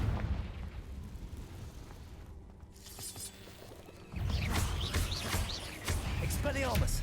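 Confringo fire spell explosion in Hogwarts Legacy: a sudden, loud fiery burst that gives way to a sustained crackling, rumbling blast layered with busy game effects.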